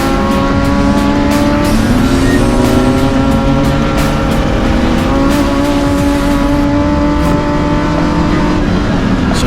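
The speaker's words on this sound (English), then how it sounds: "Martins controlling that gap in the diesel machine to keep out the attack coming from Everstein" Diesel race cars in a BMW M Performance Parts race series drive on a circuit, engines droning loudly and continuously near the microphone with shifting pitch as they race, without talk.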